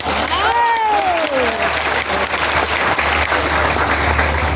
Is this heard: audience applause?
yes